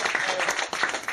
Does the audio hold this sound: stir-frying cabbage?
no